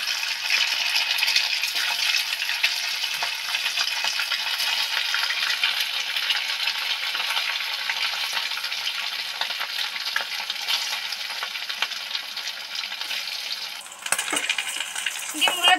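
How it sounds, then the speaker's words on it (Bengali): Egg yolks fry in oil in a wok, a steady, dense broadband sizzle that holds evenly for most of the stretch, then dips briefly before picking back up near the end, with no talking. "ডিমগুলো তো সুন্দর করে ভেজে নিলাম"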